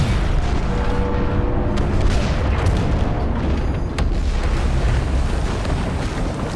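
Loud, dense video game combat from Star Wars Battlefront 2 on Sullust, with heavy blaster fire and rumbling explosions packed into a continuous roaring barrage.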